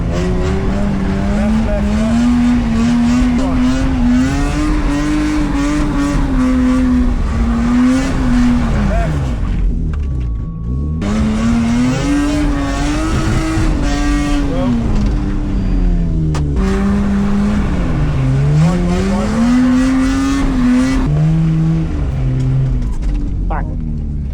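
A car drifts and spins donuts for over twenty seconds, tires squealing loudly and continuously as the engine revs rise and fall in sweeping waves, with a brief dip near the middle.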